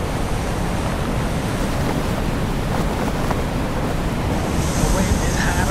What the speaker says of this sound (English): Getting thunderous gusts blasting through town now.